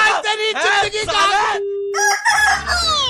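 Rooster crowing sound effect in a Hindi radio show jingle, a loud close cock-a-doodle-doo with sweeping upward and falling calls, broken by a brief steady tone and followed by a second crow over a low hum.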